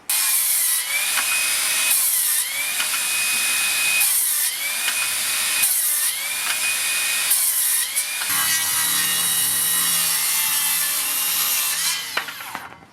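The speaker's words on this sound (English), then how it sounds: "The circular saw." Makita XGT 40V cordless circular saw spinning up and cutting wood in repeated bursts, each with a rising whine, followed by a longer continuous cut that winds down at the end; loud and close, no talk.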